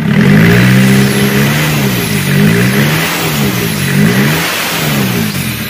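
Turbocharged car engine, still cold with oil just circulating, revs loudly and close up in a steady rising and falling drone with no talk.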